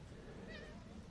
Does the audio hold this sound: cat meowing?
yes